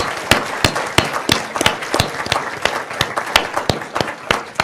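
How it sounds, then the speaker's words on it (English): An audience at a university speaker-series lecture claps in a brisk, fairly dense round of applause, close and loud, with sharp individual claps standing out. "give him a round of applause"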